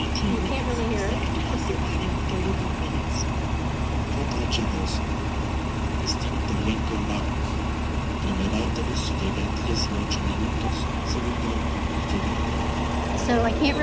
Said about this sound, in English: there's a bus that's making a lot of noise